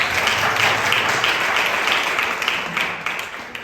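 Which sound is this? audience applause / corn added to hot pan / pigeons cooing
audience applause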